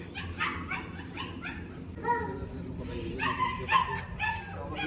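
A female German Shepherd dog yelps and whimpers in a series of short, high cries over a steady background rumble.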